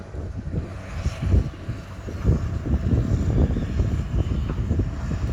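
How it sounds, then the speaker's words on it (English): Airplane passing high over the Blackpool seafront, a faint low engine rumble under gusty wind buffeting and outdoor background noise, with no speech. "Plane there going off to sunnier climes."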